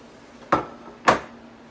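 Cornbread dressing mixture is dropped into an oval Pyrex pan in two wet, clattering thuds about half a second apart, close and clear against a quiet room.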